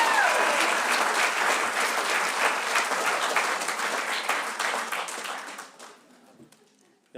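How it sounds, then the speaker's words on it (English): Audience applause fills a room at a Martin Luther King Jr. remembrance gathering, dense and sustained clapping that slowly thins out and dies away to near silence at the end. "For yourselves, a round of applause"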